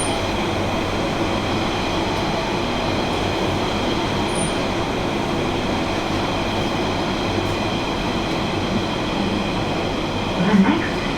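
A London Underground Central line train runs between stations, a loud continuous rumble and roar heard from inside the carriage with faint wheel squeal and a brief clunk near the end.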